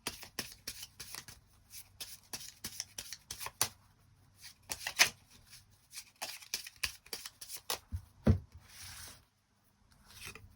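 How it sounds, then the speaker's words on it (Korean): Tarot cards get shuffled by hand before a draw, a close, quiet run of rapid riffling and papery rubbing strokes that repeats in short bursts, with no voice over it. "카드 뽑아보도록 하겠습니다."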